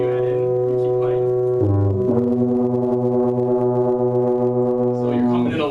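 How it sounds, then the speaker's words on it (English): Tubas in a section rehearsal, one sustained low note joined by a second tuba, the pair holding long loud tones that shift pitch together, close and steady. "Now, William, you add in. You keep playing"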